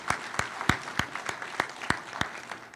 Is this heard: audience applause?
yes